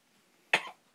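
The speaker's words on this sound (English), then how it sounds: "You still have that cough." A single short, sharp human cough sounds close by after a near-silent moment, then fades quickly.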